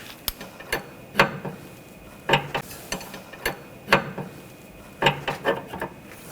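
A ratchet wrench snugs a nut on the steering rack bellow boot of a 2014-2020 Nissan Rogue, clicking in short, repeated bursts with brief pauses between strokes, close and fairly quiet.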